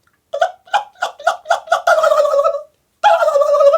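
A voice imitates a turkey gobbling: a rapid series of six choppy warbling bursts, then a longer rolling trill, a short pause and another trill, close and loud.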